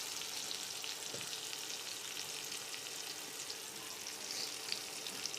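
Onions sputter in hot oil alongside dried chili and garlic, a continuous near sizzle with scattered small pops and an even, unbroken hiss throughout.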